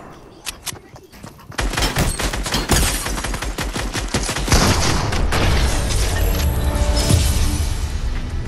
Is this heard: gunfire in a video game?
yes